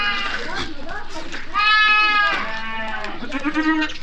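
Bleating of Aleppo (Halep) goats, a doe with twin kids suckling among young stock, rising from short cries to a loud sustained bleat mid-clip and several overlapping calls after.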